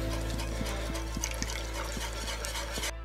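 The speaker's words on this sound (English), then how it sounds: "Now the only thing to do is to add in the milk" Milk poured into a French toast mixture while it is whisked, a steady close liquid pour with rhythmic whisk taps against the bowl, ending abruptly.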